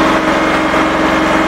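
A John Deere 5210 tractor engine roars steadily under heavy load climbing a ramp, loud and close, with a low rumbling throb and no voices.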